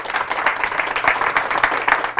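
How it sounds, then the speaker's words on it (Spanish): A church congregation applauding, a dense run of rapid overlapping hand claps at moderate loudness that keeps going for the whole stretch without a pause. "Fuertes aplausos al Señor"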